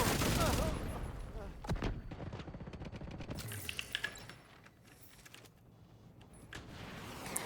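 Rapid bursts of gunfire from Riker turrets in a video game crackle in dense, overlapping volleys, moderately loud at first and then thinning into scattered shots, with a voice talking over them.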